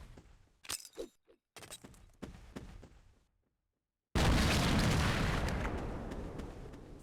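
A grenade blast in the shooter game Half-Life: sparse thuds and clatter at first, then a sudden loud boom that gives way to a long, slowly fading rumble.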